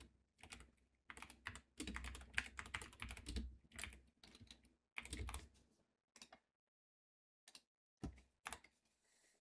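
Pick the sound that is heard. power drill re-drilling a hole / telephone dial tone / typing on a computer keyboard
typing on a computer keyboard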